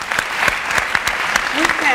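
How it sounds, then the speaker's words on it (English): Audience applause at the Education Nation 2013 summit, a steady burst of clapping from a crowd that carries on for the whole moment. "I'm telling you, I just got to applaud these kids."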